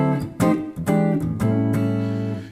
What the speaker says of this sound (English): you can take the tone knob back and get something like a jazzy sound like this.